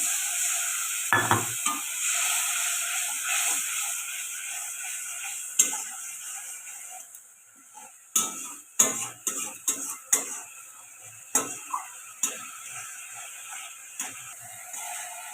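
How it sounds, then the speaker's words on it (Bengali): Spice paste for a vegetarian paneer dish fries in a pan while a spoon stirs and scrapes it, sharp irregular clinks and scrapes over a soft continuous sizzle, no talking. "খুব ভালো করে মশলাটা ভাজা হয়ে গেছে"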